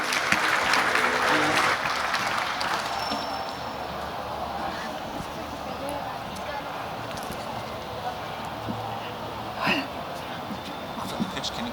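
An audience at a business pitch competition applauds the tech team, a steady dense patter of clapping that is loudest at the start and then settles, with a little talk under it.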